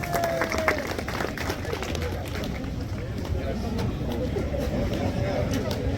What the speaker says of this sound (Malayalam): നല്ലൊരു കൈയടി കൊടുക്കും പ്രിയപ്പെട്ടവരെ, നല്ല കൈയടി.